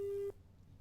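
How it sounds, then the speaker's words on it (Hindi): A short steady busy tone sounds once after a phone call drops, then cuts off into quiet background hum. "लगता है राजू का फोन डिस्कनेक्ट हुआ है"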